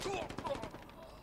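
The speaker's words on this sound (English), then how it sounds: "Taking fire." Rapid gunfire in a Halo Infinite capture-the-flag multiplayer match, a quick burst of shots under in-game voice callouts and speech.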